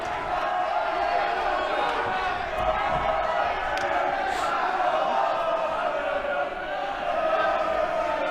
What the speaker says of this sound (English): The crowd is absolutely going off right now.